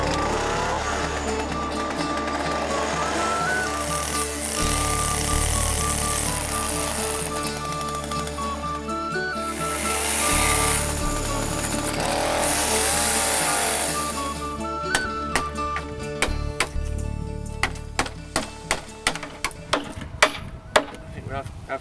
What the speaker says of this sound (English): I've got to do a bit of accurate sawing with a chainsaw to get the beams on.